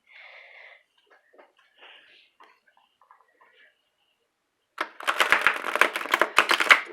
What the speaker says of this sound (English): So I'm going to shuffle each deck so we can be fair.